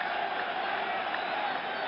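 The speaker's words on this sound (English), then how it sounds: "Crowd roaring his name, roaring for the Yankees." Baseball stadium crowd at Yankee Stadium roaring for the Yankees during the 1977 World Series Game 6 against the Dodgers, a dense, steady wash of cheering voices, distant and continuous, with broadcast commentary faintly underneath.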